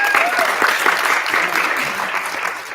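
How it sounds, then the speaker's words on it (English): A conference audience breaks into brief, fairly close applause, a dense steady clatter of many hands lasting a few seconds. "I think that deserves a little more applause than that, don't you?"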